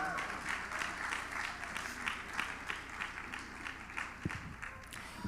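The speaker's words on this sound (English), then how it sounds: "a round of applause for her as well" An audience at a journalism education panel session at a conference applauds a newly introduced panelist, steady dense clapping from a moderately distant crowd sustained throughout.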